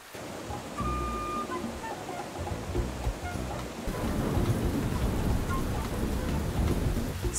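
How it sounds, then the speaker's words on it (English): Steady heavy rain pours down with rumbling thunder, growing denser and louder partway through, with no voices. "Mr. Crazy Gorilla started watering the plants under heavy rain"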